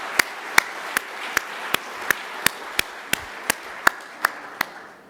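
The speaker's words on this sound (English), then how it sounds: "Well, we'll applaud you anyway." Steady, evenly spaced claps at an evening event honoring a biographer, about three per second and fairly close, with no voices over them.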